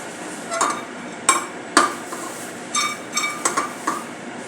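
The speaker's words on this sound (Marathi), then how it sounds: "अशा प्रकारे फुटत आहे आणि चुराई होत आहे." Roasted ingredients for homemade protein powder being broken and crumbled, giving a series of sharp cracking knocks with irregular spacing, close and fairly loud with no talk.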